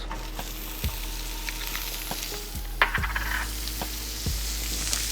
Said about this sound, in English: Start out with half a stick of butter.